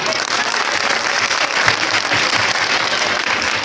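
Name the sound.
audience applause at quiz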